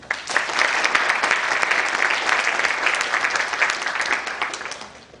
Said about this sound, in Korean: 동의하시면 박수 한번 칩시다.